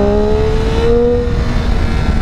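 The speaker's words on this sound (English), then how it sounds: "This guy right here to the right's got a nice Corvette." A Corvette driving close by, its engine a steady loud drone with tones that climb gently, with no talk over it.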